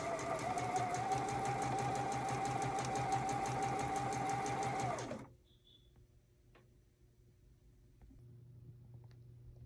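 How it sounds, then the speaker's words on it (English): A sewing machine stitches around a fabric patch pocket with a steady, fast mechanical whir and rhythmic needle clatter for about five seconds, then stops and leaves a quiet room with faint handling sounds. "I'm going to lift that presser foot up, rotate my fabric, and continue my stitching"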